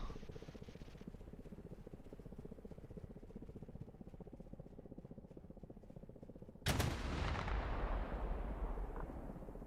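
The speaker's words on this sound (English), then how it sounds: "BMP's now engaging with 30mm." A BMP's 30mm cannon fires in a military video game, a rapid rumbling stream of shots that cuts to a sudden loud blast and sharp burst of louder fire near the end.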